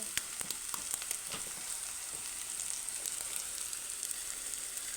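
Beaten eggs fry in a pan with a soft, steady sizzle and scattered crisp crackles. The sound is fairly quiet and continuous, with no talking.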